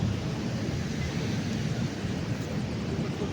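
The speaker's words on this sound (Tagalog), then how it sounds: "Ang taas ng alon, grabe." Ocean waves rumble steadily onto a beach in a continuous low wash, mixed with wind buffeting the microphone, with no voices.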